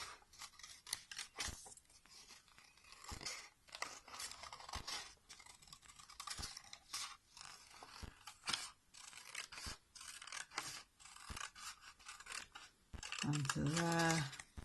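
Paper being snipped with scissors while cutting out a paper bug's second wing: a steady run of short, crisp cuts and rustles up close, with a brief voice near the end.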